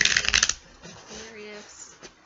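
Tarot cards are shuffled in a short, crisp riffling burst at the start, followed by quieter sounds and a soft voice.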